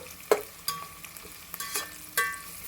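Onions frying in oil for Nellore-style chicken biryani give a soft, faint sizzle punctuated by a few sharp stirring clicks and scrapes, with no voices.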